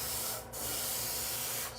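Spray paint hissing onto an RC car body in two close bursts, a steady airy spray that briefly dips midway and cuts off near the end, with no talking.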